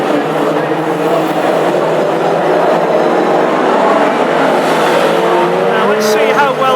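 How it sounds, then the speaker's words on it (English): Classic hot rod race cars roar off together at the clutch start of the final at a Northampton oval, a dense, steady engine drone that stays loud throughout, with a commentator's voice running over it. "The green flag drops on the final with this clutch start"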